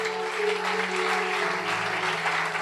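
A church congregation claps together in sustained, dense applause that carries at an even level from start to finish, with no voices standing out above it.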